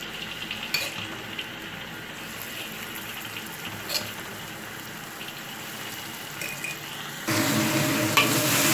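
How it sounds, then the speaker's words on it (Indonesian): Spice paste sautés in a pan on a stove with a soft, continuous sizzle, broken by a few scraping stirs, and grows louder and brighter near the end. "Oke, sekarang kita tumis-tumis bumbunya ya."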